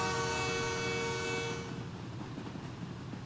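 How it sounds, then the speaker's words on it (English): A passing train sounds a loud, sustained horn that cuts off after about a second and a half, leaving the rumble of rail cars rolling by. "Wait, is there a train over here?"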